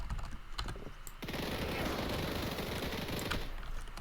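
A rifle fires in the video game Hytale: a fast rattling string of quiet shots starts after a second and runs steadily to the end, with a few sparse clicks before it.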